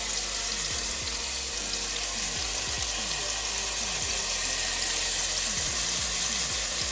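Garlic and ginger fry in oil in a pan, a steady broadband sizzle running throughout at close range, with faint scraping or stirring sweeps mixed in.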